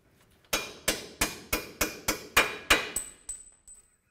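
Hammer tapping a lower control arm bolt through on an 08-12 Ford Escape, about ten sharp, evenly spaced metallic strikes up close, the last few lighter, followed by a faint ringing tone.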